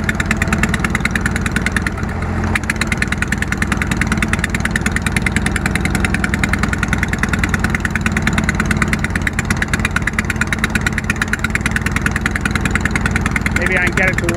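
A Bolens QT 16 garden tractor engine runs steadily after a troublesome cold start, a loud, close, evenly pulsing mechanical chug with rapid firing rhythm throughout.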